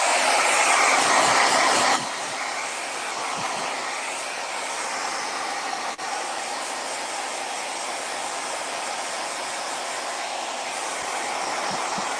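A hair dryer blows steadily and loudly over a watercolor painting, its airflow dropping to a slightly lower, continuous roar after a couple of seconds, with no speech.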